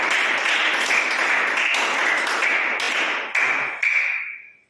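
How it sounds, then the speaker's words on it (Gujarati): A crowd applauding to welcome guests at a memorial meal for blind children, a dense burst of many hands clapping loudly for several seconds before thinning and fading to silence. "આપણે સૌપ્રથમ તાળીઓથી સ્વાગત કરીએ।"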